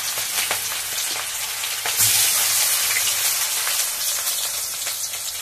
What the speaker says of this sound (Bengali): জিরে আর তেজপাতা ফোড়নে দিলাম, তেল দিয়েছি